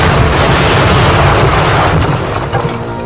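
A test bomb detonation recreating the attack on Hitler, with the device placed against a table leg, heard as a loud, sustained blast roar that fills the whole moment and tapers only slightly at the end.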